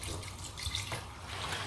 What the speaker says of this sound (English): I just added almost 2 liters of water to this soup.